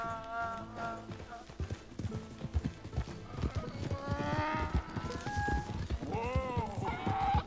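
Horse hooves clop rapidly and rhythmically at a gallop in Red Dead Redemption 2, close and steady, with snorts and whinnies and tonal background music underneath.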